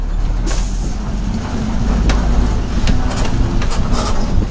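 An APSRTC Tenali–Jolapalem bus engine rumbles loudly and close from inside, with sharp hissing bursts of air brake release scattered over the steady drone.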